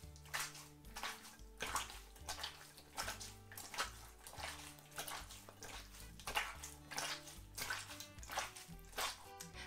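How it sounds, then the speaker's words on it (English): A wet flannel being squelched in water, sloshing and squishing in a repeated rhythm over a steady musical backing. "You need your flannel and your water for this to make some squelchy sounds"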